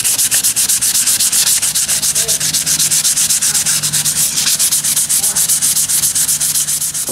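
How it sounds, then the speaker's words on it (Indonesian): Rhythmic back-and-forth sanding of a door scrapes loudly and steadily up close, a repeated abrasive rasp with no talking. "Setelah kering kita amplas"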